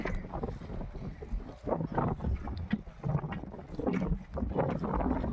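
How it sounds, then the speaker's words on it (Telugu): Strong wind gusts across tobacco fields at Mulakallanka, buffeting the microphone with a constant rough rumble and rustle. "గాలి చాలా ఎక్కువగా వేస్తుంది"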